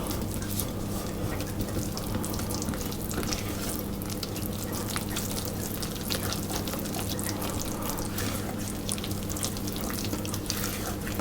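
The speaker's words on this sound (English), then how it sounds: "Adding the water as well." Water runs steadily from a tap into Swedish pepparkakor ginger snap dough, a continuous close splashing stream with no pauses.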